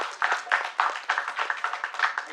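Audience applause at a stage event for the Thookudurai film team: a short burst of many hands clapping close and fairly loud, steady and dense without pause.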